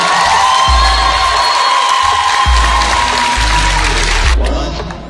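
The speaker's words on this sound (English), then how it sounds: "So give yourselves a big round of applause." A live audience applauds and cheers loudly, dense clapping with whoops and shouts throughout, fading slightly at the end.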